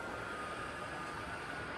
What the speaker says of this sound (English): So on we go for our train for today.